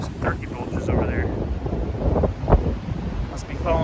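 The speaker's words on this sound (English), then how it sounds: "I didn't realize how fucking windy it was gonna be." Strong gusty wind buffets the microphone on an open hill prairie overlook above the Mississippi Valley, a steady low roar with rising and falling gusts throughout.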